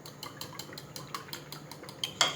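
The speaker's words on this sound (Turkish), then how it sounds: "Sütümüzü Şöyle biraz çırpalım." A utensil taps and clinks quickly against a bowl as milk is whisked for a cheese börek filling, in light regular strokes close by and fairly quiet.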